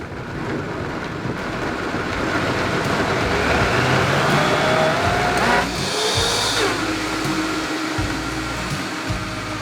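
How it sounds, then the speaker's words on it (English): A blender runs steadily and loudly throughout, puréeing butternut squash soup, its motor whine shifting in pitch partway through as the load changes. "So let's get this blended."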